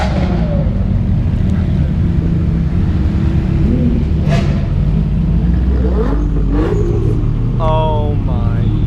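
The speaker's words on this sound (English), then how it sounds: "We got another LaFerrari just pulled in" LaFerrari supercar pulling in among a lineup of supercars on a street, its engine a loud, rumbling drone with brief rising revs near the end, under an excited voice and crowd noise.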